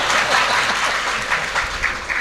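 An audience at a devotional religious gathering applauds, a dense continuous wash of many hands clapping close and loud for about two seconds.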